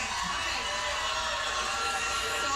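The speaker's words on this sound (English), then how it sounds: "I don't know why the women were cheering louder for that" A crowd of women in a studio audience cheering, a broad, steady wash of shouting and applause-like noise that holds at an even level throughout, with voices blended into the roar.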